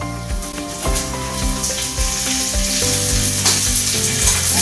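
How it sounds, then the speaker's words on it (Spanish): Cauliflower fries in preheated oil in a pan, a loud dense hiss and spatter that swells after a sharp knock as the pieces go in, with steady background music underneath. "Vamos a poner en un sartén ya previamente caliente un poco de aceite. Vamos a poner la coliflor."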